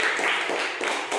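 Schoolchildren clap together in a classroom, a quick, loose patter of many hands that keeps going for just over a second.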